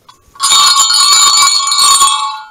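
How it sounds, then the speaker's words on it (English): A bright metal bell rings loudly and close, a sustained shimmering jingle of overlapping tones that holds for about two seconds. "We have this bell."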